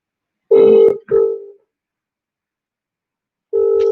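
Outgoing telephone call ringing out, two short tone bursts followed by a pause and another tone, loud and clear with no one talking.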